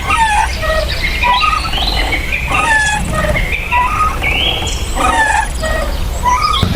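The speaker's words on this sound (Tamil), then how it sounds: "எவ்வளோ அமைதியாக குருவி சத்தம் மைனா சத்தம் எவ்வளோ அழகாக அமைதியாக இருக்குது" Sparrows and mynas chirp and call in a quiet forest, a dense, continuous layer of overlapping squeaky whistles and trills close by, with no talking.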